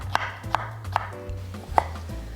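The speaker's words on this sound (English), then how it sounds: "Cut the cucumber into 2-inch thick lengths and then julienne it" A knife julienning cucumber into fine strips on a cutting board, with four sharp, distinct chopping taps at uneven intervals over a soft low background hum.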